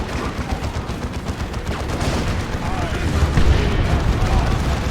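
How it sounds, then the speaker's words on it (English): Melta guns fire during a Dawn of War 2 match, a dense run of booming blasts and rumbling impacts layered amid battle noise, loud and continuous with commentary running over it. "Good knockback on the Melta guns."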